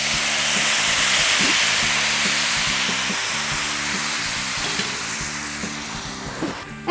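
Stock poured into a hot pan of softened mushrooms and onions for a sauce sets off a strong, close sizzle and hiss. It fades gradually over several seconds under a steady low kitchen hum, with a few small knocks near the end.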